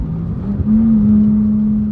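A straight-piped, manual BMW 335i with the N55 engine holds a steady, loud drone on a pull, its pitch climbing slightly and then sustaining near, with no talk over it.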